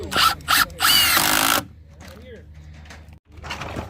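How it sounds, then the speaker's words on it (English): A Milwaukee impact driver drives deck screws into pallet wood, loud hammering bursts in short pulses then a longer sustained burst, close up, followed by quieter handling noise and a voice speaking. "We're just using these deck screws, with Milwaukee Impact"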